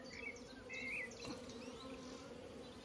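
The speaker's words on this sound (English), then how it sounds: "There's loads of young nurse bees." A dense, steady buzzing of many honeybees, including young nurse bees, fills the air during hive work, with occasional higher whining passes as individual insects fly close.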